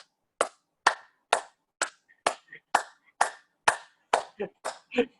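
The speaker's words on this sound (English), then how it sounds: "Just clap for 5 minutes." Single person clapping hands in a slow, steady rhythm, about a dozen crisp, close claps spaced roughly half a second apart, with a voice speaking briefly near the end.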